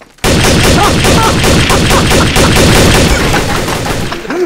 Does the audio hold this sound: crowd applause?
no